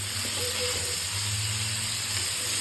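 Bitter gourd pieces are added to onions frying in a pan and give a constant close hiss of frying with a faint low hum beneath. There are no distinct pops, and no one speaks.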